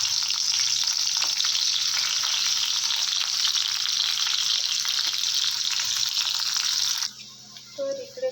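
Onion, mustard seeds and curry leaves fry in hot oil, a close, steady bright sizzle that runs for about seven seconds before dropping off abruptly into quieter handling noise.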